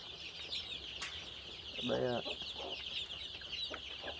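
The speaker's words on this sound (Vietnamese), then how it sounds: "đây là lứa gà mình chuẩn bị xuất bán nhá" Black H'Mong chickens about three weeks old cluck softly, with one short burst of clucking standing out over faint background hiss and insect-like buzzing.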